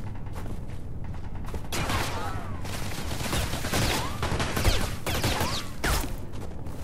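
Armorer turret gunfire in the game Space Engineers, a sustained burst of rapid shots and metallic impacts, with mechanical creaks and sweeping whines layered over a rumbling background.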